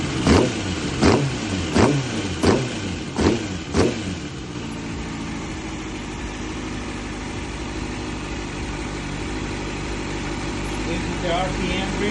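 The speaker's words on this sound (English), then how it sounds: "On every turn that we're adjusting one of these, we're going to flip the throttle." 2019 Kawasaki ZX-6R sport bike engine revving in five quick, evenly spaced throttle blips, then settling into a steady idle that continues to the end.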